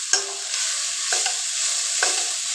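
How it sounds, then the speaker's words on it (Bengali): Onion and capsicum fry in a pan with a steady bright sizzle, while a utensil stirs through them in three distinct scraping strokes, close and alone without any talk. "এটা যখন মোটামুটি এখন ভাজা ভাজা হয়ে আসছে, পেঁয়াজটা আর ক্যাপসিকামটা একটু সফট হয়ে গেছে দেখুন"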